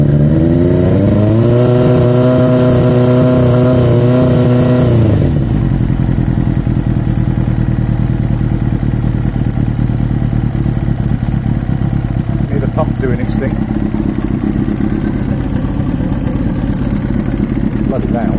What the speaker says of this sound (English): Go for three-quarters choke.